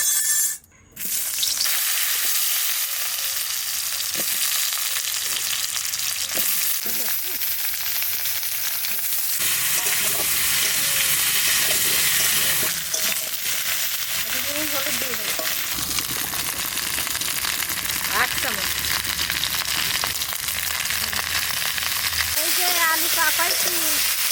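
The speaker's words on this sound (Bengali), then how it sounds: "এবার এই আলুটা রান্না করব কড়াইতে একটু তেল" Potatoes frying in a little oil in a wok, a steady close sizzle of hot oil running throughout with occasional stirring scrapes and clinks.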